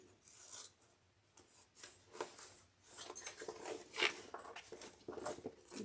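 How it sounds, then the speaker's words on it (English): Scissors trimming the bottom edge of fabric for a backpack, heard as close, quiet snips and raspy rubbing strokes in an irregular run of short cuts. "I'm going to trim this bottom."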